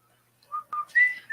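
Short, shrill whistle notes, a few quick chirps rising into a brighter sustained tone, close and fairly faint, with no talk.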